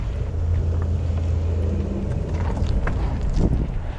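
A 2024 Cadillac XT4 AWD Sport accelerates uphill with its tires slipping slightly, giving a steady, loud low engine and road rumble from inside the cabin, with some wind noise and no talking.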